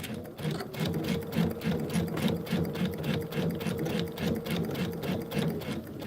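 A sewing machine stitches a placemat seam in a steady, fast mechanical chatter of needle strokes that runs continuously, close and fairly loud, with no talking.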